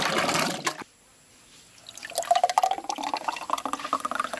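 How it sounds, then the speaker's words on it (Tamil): Fresh pure mango juice is poured from a vessel into a pot. After a brief hush, a liquid splashing, filling stream builds and keeps gurgling steadily at close range, with no talk. "ஊத்து அப்படியே எல்லாத்தையும் ஊத்தி விடு"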